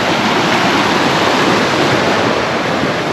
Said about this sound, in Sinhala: ඔය වතුර පාර දැන් ලොකු වෙලා.